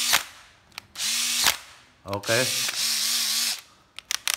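Cordless battery drill whirring in several short bursts, each pull of the trigger revving up and cutting off, with a brief ratcheting clutch chatter in between and someone speaking briefly.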